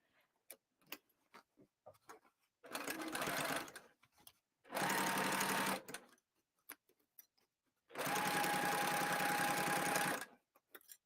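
A sewing machine stitches a fabric bag in three loud bursts of steady whirring, separated by quiet pauses filled with small clicks as the hand wheel turns and the presser foot lifts.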